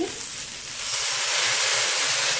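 Fish sauce hits a hot pan of vegetables, setting off a loud, steady frying sizzle that swells after a second and holds as a dense, even hiss with no voices.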